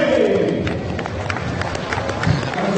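A crowd at the European Archery Championships recurve final cheers and claps from a distance, a broad, steady roar with scattered shouts and talk mixed in.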